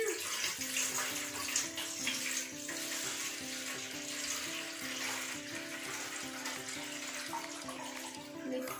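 Water is poured from a bottle into a transparent bucket, a steady splashing, trickling stream that runs continuously at close range under faint background music.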